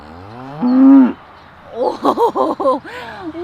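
A cow moos once, a long, loud, low call, followed by a voice imitating the moo with several rhythmic syllables in a playful farm setting.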